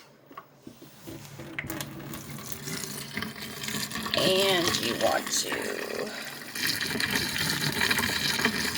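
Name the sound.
boiling water poured down a sink drain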